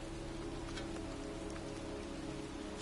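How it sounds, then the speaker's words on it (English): Heavy downpour in a cemetery from the video game Heavy Rain, a steady dense hiss of rain on surfaces filling the whole stretch with no pauses and no voices. "here I am, standing in a cemetery in pouring rain"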